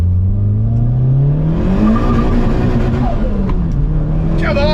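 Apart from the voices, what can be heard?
turbo Toyota Sera accelerating in first gear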